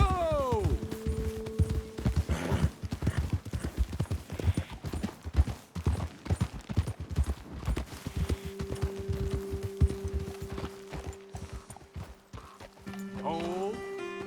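A horse's hooves clip-clop at a steady riding pace across ground in Red Dead Redemption 2, close and rhythmic, with a short neigh and people talking over the hoofbeats.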